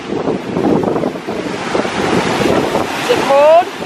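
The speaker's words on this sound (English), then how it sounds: "check out the water. Wow, those are big waves." Big waves roll and crash on a lake shore at New Buffalo, Michigan, under gusting wind that buffets the microphone, a loud continuous wash with a voice briefly heard.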